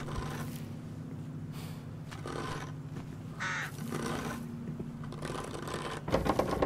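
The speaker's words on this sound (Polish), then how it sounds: "Cholerne wrony." Crow caws ring out intermittently in the woodland horror video game Through The Woods, fairly faint and spaced apart above a constant low humming ambience, with some mechanical clicking near the end.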